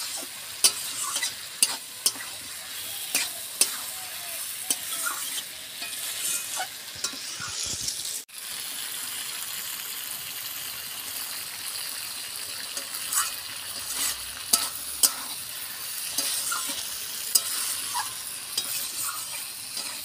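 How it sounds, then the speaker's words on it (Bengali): Fried potatoes and pointed gourd tossed in spiced oil for a rohu fish curry, with steady sizzling under repeated scraping and clinking stirs of a spatula against the pan, close and continuous. "এবারে আমি এখানে ভাজা আলু আর ভাজা পটলটা দিয়ে দেবো, দিয়ে আবারও আমি একটু ভালো করে কষিয়ে নেব।"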